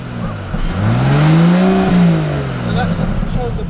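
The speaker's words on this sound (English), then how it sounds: "So if you did that lovely little rev for me" A classic car engine at a car show revs up in one smooth rising and falling sweep, loud and close, with people talking nearby.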